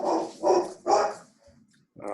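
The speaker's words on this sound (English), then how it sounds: "Someone's dog is barking." A dog barks nearby in a short run of three or four loud, gruff barks with a brief pause between them, heard alone.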